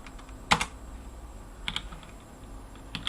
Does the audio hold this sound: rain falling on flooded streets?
no